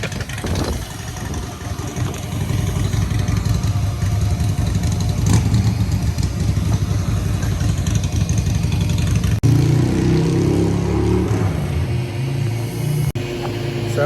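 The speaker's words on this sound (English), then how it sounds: "It's my neighbor's motorcycle." A neighbor's motorcycle engine idles and revs nearby, a loud, continuous rumble that rises and shifts in pitch, with faint voices in the background.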